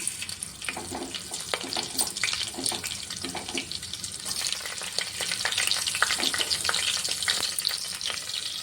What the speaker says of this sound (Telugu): ఆయిల్ హీట్ అయిన తర్వాత ఇందులో మసాలా దినుసులు వేసుకోవాలి అలాగే మనం కట్ చేసి పెట్టుకున్న పచ్చిమిర్చిని కూడా వేసుకోవాలి